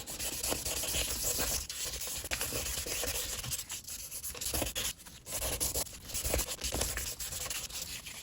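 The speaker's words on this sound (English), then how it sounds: "So here I've just got my 1000 grit, and now I want to go opposite direction." An old hazy car headlight is wet sanded by hand with 1000 grit sandpaper, making a steady, close, rhythmic rubbing scratch in back-and-forth strokes with brief pauses, no talk.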